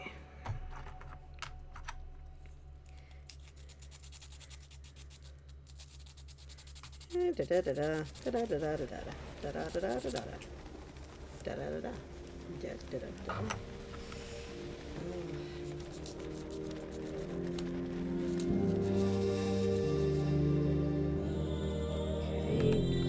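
A small model house kit is sanded and filed by hand, giving close, scratchy rubbing and clicking strokes, most distinct at the start and later partly masked by a tonal background sound.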